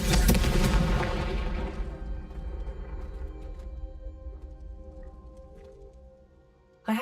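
A Confringo fire spell from Hogwarts Legacy, a Harry Potter video game, bursts in a loud, booming explosion that rumbles and slowly fades over several seconds, with a sharp thump right at the end.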